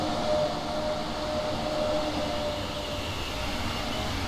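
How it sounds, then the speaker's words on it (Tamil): An EMU train passes by in Train Sim World 4, a steady loud rumble of rolling stock with a faint whine running through it, continuous and unbroken. "EMU ட்ரெயின் கிராஸ் ஆகுது"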